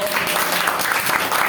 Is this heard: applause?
yes